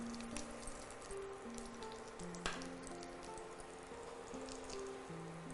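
Fennel seeds and a bay leaf crackling and spluttering in hot oil, a dense continuous sizzle with scattered sharp pops, close up and steady.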